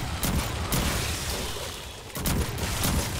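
Gunfire in the video game Aliens comes in several dense, loud bursts separated by short lulls, the rattling volleys close and continuous rather than single shots.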